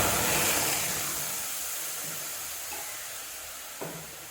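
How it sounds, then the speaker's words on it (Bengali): Tomato paste hits a hot wok for a Bengali rasam, giving a steady close hiss of sizzling that slowly fades, with a brief soft clatter near the end. "আমি এখন কড়াইতে এই যে টমেটোটা দিয়ে দিচ্ছি"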